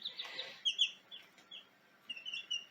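Chicks in a brooder giving soft, high peeping chirps and little clucks in short scattered bursts, fairly faint and close, with no talk.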